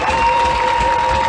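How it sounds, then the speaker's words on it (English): Crowd at a Black Lives Matter protest rally applauding and cheering, a dense sustained wash of clapping and voices with a whistle-like tone running through it, loud and close throughout. "I want you to applaud yourself."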